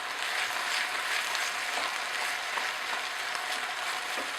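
Tomato paste browning in a pan gives off a steady, close, even sizzle with faint crackles and no talking.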